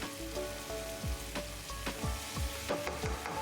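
Karahi paneer masala sizzles and crackles in oil in a pan, with soft popping bubbles at irregular intervals over a steady low frying hiss.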